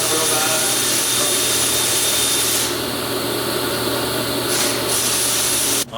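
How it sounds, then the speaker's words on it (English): Metal pieces are welded together, producing a loud, continuous close hiss and crackle for nearly six seconds that shifts in tone midway and stops sharply at the end. "it would be fun to weld these together"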